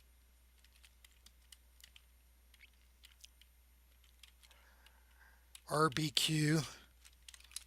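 A computer keyboard types a spreadsheet formula with faint, scattered key clicks in a quiet room, then a short spoken phrase ends the passage.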